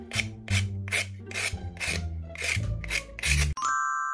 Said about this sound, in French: Même sur mes ongles, j'aime pas poncer.